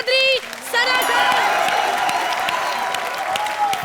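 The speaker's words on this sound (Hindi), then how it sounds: "जोरदार तालियों से स्वागत कीजिए" Studio audience at a televised comedy show breaks into loud applause and cheering after a short musical sting, a dense, sustained wash of clapping and crowd noise that holds to the end.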